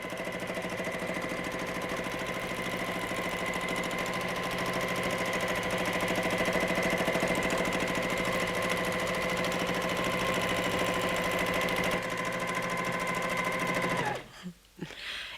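Sewing machine running steadily through free motion quilting, a close, continuous mechanical whir with rapid needle chatter for about fourteen seconds before stopping abruptly, no talk over it.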